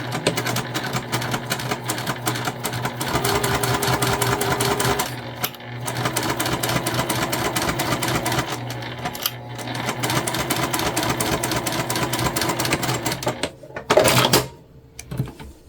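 A sewing machine runs in long stitching passes across a cotton key fob wallet, a quick steady needle chatter that pauses briefly a few times before ending with a short burst and a clunk.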